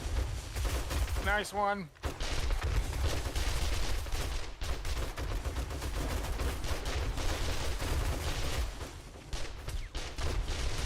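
Rapid gunfire from shooting zombies, including a flashing-light bomber, in the survival game 7 Days to Die, loud and nearly continuous with dense bursts, with a brief spoken remark early on.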